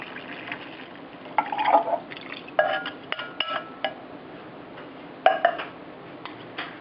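Water is poured into a pot of Thai yellow curry with chicken, potato and coconut milk, giving soft liquid splashing with intermittent clinks of the pot, no talking.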